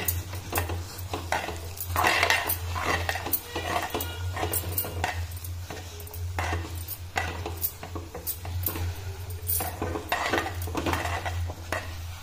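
Rice flour khichu being stirred in a metal pot: a spoon scrapes and knocks against the pot in quick, irregular strokes. A steady low hum runs underneath throughout.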